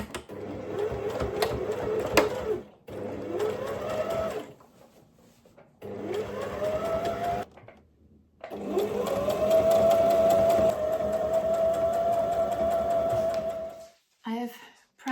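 Sewing machine stitching the bottom seams of kitchen frill curtains, running in several bursts of steady motor whir with short pauses between, close and fairly loud.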